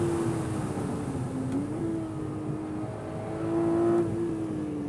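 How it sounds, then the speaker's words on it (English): A Porsche 718 Cayman GTS 4.0 with a naturally aspirated engine revs on a track, giving a steady, sustained engine drone whose pitch dips and climbs again. It sounds moderately close and continuous, with no voices. "a naturally aspirated howl I think is a bit more intoxicating and visceral"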